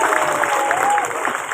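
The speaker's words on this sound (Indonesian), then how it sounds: "Tepuk tangan dulu dong." Audience applause at an Isra Mi'raj religious gathering in Pekalongan, a steady dense clatter of many hands clapping at once, sustained and fairly loud for the whole stretch with crowd noise mixed in.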